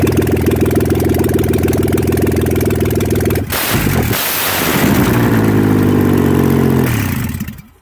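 A 1987 3.8-litre engine fired up with no exhaust pipes fitted runs loud and raw, holding a rough steady idle, briefly dropping and surging midway, then settling into a hard, throaty run before cutting off.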